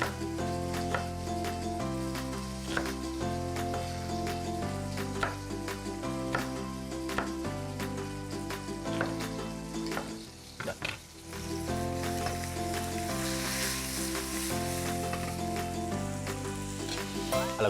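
Onion and chicken cubes frying in a pan, a continuous crackling sizzle with occasional stirring, heard beneath steady background music with no talk.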